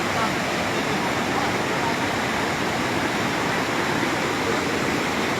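A swollen, flooding river rushes in a loud, continuous roar of turbulent water, steady and close throughout with no break.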